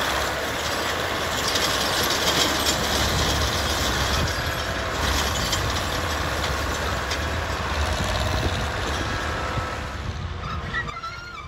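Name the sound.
railroad maintenance machine cleaning ballast from old tie holes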